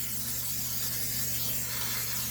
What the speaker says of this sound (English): I like to use the Crisco spray.